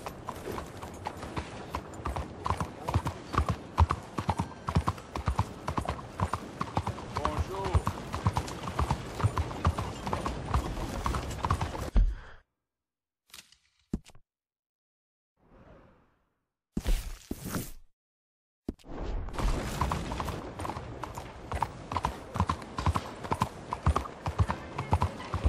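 Horse hooves gallop in the video game Red Dead Redemption 2, a fast steady clip-clop that runs loud for about twelve seconds, breaks into near silence with brief bursts, then resumes.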